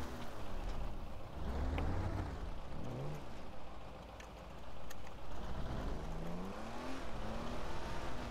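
A car engine revs steadily while driving, a continuous low rumble with pitch rising and falling as it accelerates, briefly easing off midway before building again.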